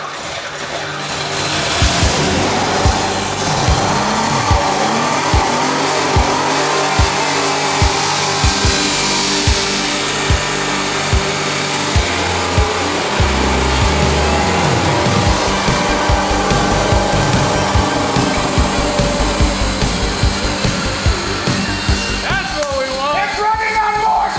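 A Pontiac Fiero six-cylinder engine cranks and catches after a tune-up, then runs with a rough, uneven idle close by while people talk over it.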